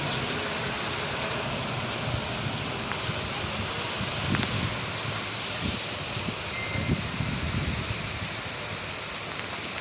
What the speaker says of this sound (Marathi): थोडंफार वाहू वाऱ्याचं सुद्धा प्रमाण आहे पावसाचं सुद्धा प्रमाण चालू झालेलं आहे